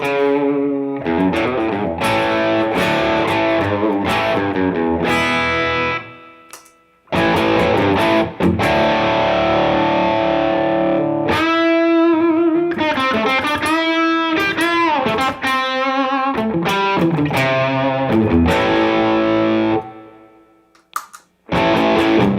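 An electric guitar plays through a reverb pedal with a run of strummed chords and single-note phrases. It is loud and close, with short pauses and ringing tails, and no voices come in.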